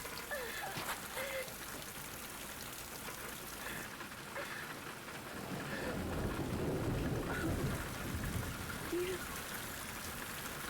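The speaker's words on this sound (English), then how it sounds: "That was some heavy rain." Heavy rain hisses steadily in the video game Fatal Frame III, and a deep roll of thunder swells midway before easing back into the downpour.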